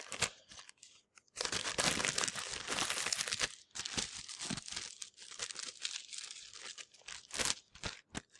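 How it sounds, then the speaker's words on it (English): Small squares of paper pushed into resealable plastic bags: loud bursts of crinkling plastic and rustling, with sharper crackles and short pauses between them. "And then I'm going to place 1 square of paper in each bag."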